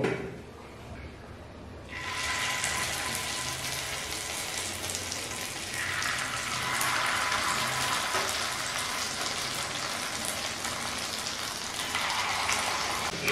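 Pieces of maida dough frying in hot oil for a Kashmiri paneer dalna style curry, a steady broad sizzle that swells after a quieter opening and holds evenly close by, with no talking.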